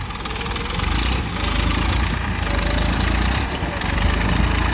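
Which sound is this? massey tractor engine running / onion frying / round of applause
massey tractor engine running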